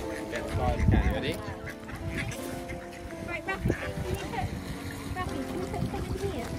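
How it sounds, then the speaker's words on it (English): A flock of ducks splashes about in water and quacks in scattered bursts, close and busy, while people talk over the commotion. "Lots of ducks, aren't there?"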